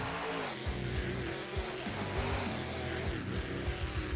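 Safe Auto Minimizer monster truck in Rigs of Rods: a game engine drones loudly and steadily, its pitch rising and falling, with brief tire squeals and a thumping bounce partway through.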